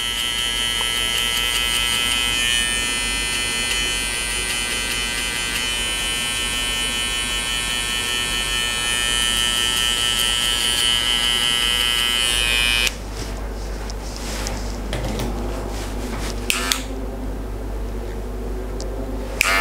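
A Skeleton FX hair trimmer buzzes steadily and close up while removing the baseline of a skin fade, its high electric whine continuing for several seconds before the tone shifts lower and intermittent as the cutting changes.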